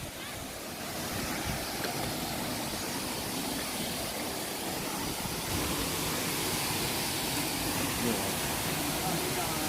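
Waterfall at Lhong in Aceh Besar, a constant broadband roar of rushing water that fills the scene steadily and loudly throughout, with some wind buffeting and possible faint voices underneath.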